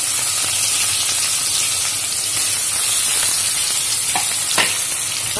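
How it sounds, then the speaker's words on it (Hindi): Sliced onion frying in hot oil with dried red chillies and mustard seeds for sambhar, a loud, dense, continuous sizzle with a few faint stirring clicks, no speech. "अब डालेंगे हम दो सूखी लाल मिर्चें और इसके ऊपर हम डालेंगे ये स्लाइसेस कट किया हुआ प्याज"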